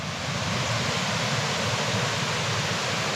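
Small trickling waterfalls cascade through a valley near Pistyll Rhaeadr in Wales, giving a steady, even rush of falling water with no voices.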